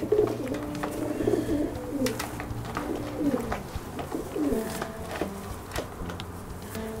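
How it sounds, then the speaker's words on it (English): A racing pigeon coos repeatedly in soft, rolling phrases close by, with a few faint clicks and light rustling between calls. "Type of pigeon you'd like to race,"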